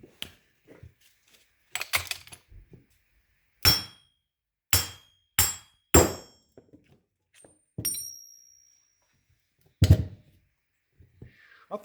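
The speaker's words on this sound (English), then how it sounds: "let's start by pounding the hub out of the bearing with our 28 millimeter socket" Several sharp metallic hammer blows drive the passenger-side wheel hub of a 2005 VW Golf TDI out of its bearing with a 28 mm socket. The strikes come singly and in quick pairs, separated by quiet pauses and faint clinks.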